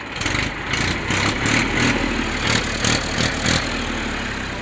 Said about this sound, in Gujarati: 39 હોર્સ પાવરના પરફેક્ટ ટ્રેક્ટર છે